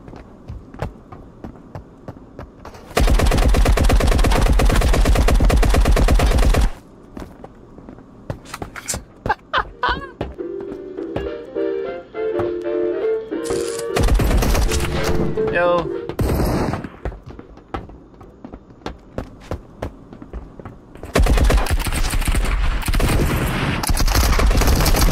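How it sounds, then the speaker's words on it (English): Bursts of MG42 machine gun fire in the Marauders video game, loud and sustained, in two long blasts with a sparser stretch between, mixed with other game noise. "The MG42 is not bad, but god damn, that scared me"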